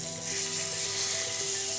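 Branzino fillet sizzling steadily in butter in a hot pan, a close, continuous bright frying hiss that holds level throughout with no voices.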